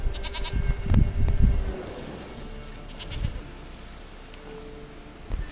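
A goat bleats in the video game The Witcher 3, a few short nasal calls near the start and a fainter one later, over quiet game ambience.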